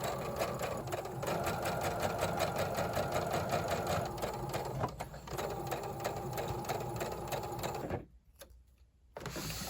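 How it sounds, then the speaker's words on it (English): A sewing machine runs steadily and loudly as it stitches along a blouse collar, a fast even mechanical whir that stops briefly near the end before starting again. "You're going to sew over that so it can help create the button panel later on."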